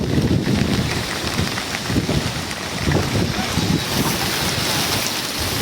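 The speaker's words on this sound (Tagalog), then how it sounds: "kung papansin nyo, malakas na naman po ang mga alon po" Heavy typhoon surf crashes and churns close by on a seashore, mixed with loud wind rumbling across the microphone throughout.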